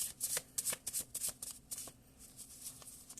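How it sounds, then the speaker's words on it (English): A deck of Hermetic oracle cards is shuffled, with quiet, close riffling and soft flicks in quick irregular bursts, faint and alone without talk. "Let's pull one more Hermetic card."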